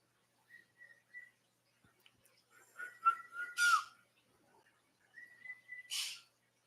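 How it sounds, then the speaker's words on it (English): Pet birds calling indoors, faint whistled notes in a short series followed by a few brighter chirps and squawks, sparse and separated by silence. "My birds are very noisy this morning."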